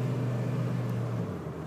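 A Dodge V10 4x4 dually truck engine pulling under throttle, a steady deep rumbling drone held at an even level, close and loud with no voices.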